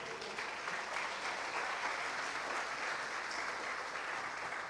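A church congregation applauds in praise, a steady dense wash of clapping from many hands that holds evenly throughout with no voices over it.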